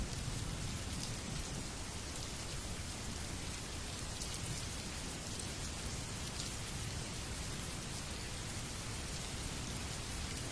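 Steady rain falls for the full length as a dense, even hiss of drops hitting surfaces, loud and constant, with no voices or other clear sounds.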